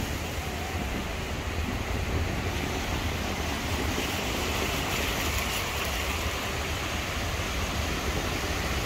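Ocean surf rolls onto Praia Central beach at Itapema, Santa Catarina, as a steady, full wash of breaking waves mixed with wind buffeting the microphone, with no voices.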